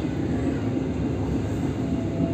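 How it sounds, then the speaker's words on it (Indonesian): An electric KRL commuter train rumbles steadily at Cakung station in Indonesia, a continuous dense roar of wheels and motors close by, with no voices. "Stasiun Cakung tuh ada KRL berhenti tuh di jalur berapa tuh?"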